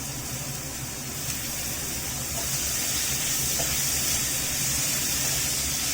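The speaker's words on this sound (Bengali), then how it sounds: "পেঁয়াজটাকে একটু ভালো করে ভেজে নেব।" Sliced onions frying in hot oil for a catfish (magur) kaliya give off a steady, dense hiss that holds close and even throughout, with no voices.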